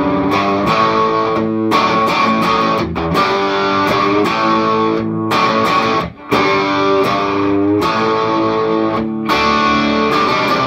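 Electric guitar played through a Love Pedal Amp 11 big box overdrive into a Divided by 13 CCC 9/15 EL84 amp, a loud continuous driven tone of strummed chords with a brief drop-off partway through.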